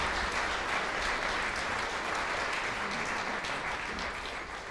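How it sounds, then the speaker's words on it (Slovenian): Sustained audience applause fills a concert hall after combined choirs, including a pensioners' mixed choir, finish singing at a Slovenian culture day concert, dense even clapping throughout. "Ja, aplavz tejle mavrični sestavi."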